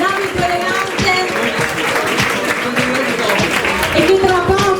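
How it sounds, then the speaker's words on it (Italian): Audience applause for twelve models after an evening-gown runway show at the Miss Open Gate pageant, a sustained, moderately loud burst of clapping with crowd murmur mixed in throughout. "Facciamo un applauso a tutte le 12 ragazze che hanno sfilato"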